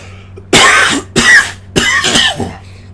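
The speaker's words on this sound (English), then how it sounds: "if I'm coughing throughout this, I apologize right now" Three sharp, close coughs from a man with a cold in quick succession, each a rough burst separated by short pauses, loud against a quiet, faintly humming background.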